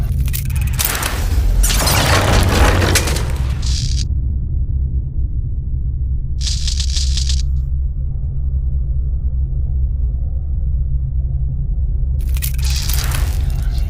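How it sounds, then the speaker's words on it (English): Several heavy, booming blasts of bombs in a Jules Verne video game, with crackling debris at the start, another burst midway, and a last one at the end, over a steady low rumble. "The explosions didn't affect the room."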